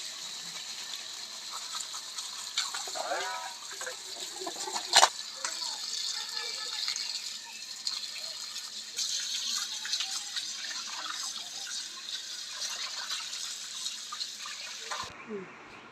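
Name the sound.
washing sorted vegetables with water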